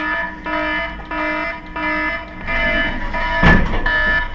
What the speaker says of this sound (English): David, sound the alarm.